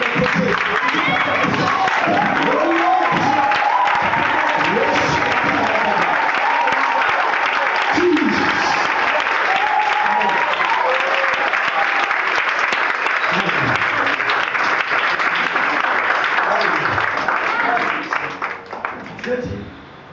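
A church congregation applauds and claps for Jesus in sustained, dense, loud applause lasting many seconds, with a voice speaking over it. The applause fades out at the end.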